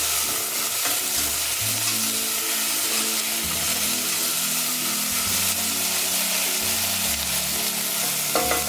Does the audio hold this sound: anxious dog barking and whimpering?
no